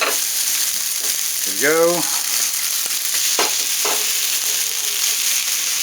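Egg and rice tossed in a pan instead of a wok, sizzling and frying steadily throughout with scraping stir strokes, and a brief spoken remark partway through.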